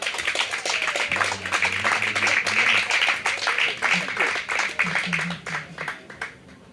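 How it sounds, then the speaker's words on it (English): Applause from a festival audience greeting a presenter comes as uneven bursts of clapping that swell and fade, with someone talking over it near the microphone. "can you please give a huge round of applause for Paul Smith?"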